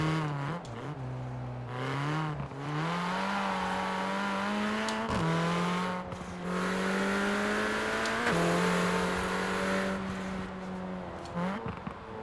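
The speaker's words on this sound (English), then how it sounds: "But I wouldn't get rid of the turbo. It sounds too good." A turbocharged Mini Cooper John Cooper Works engine in the Forza Horizon 4 video game revs and drones, its pitch climbing through gears with brief drops at each shift, loud and continuous.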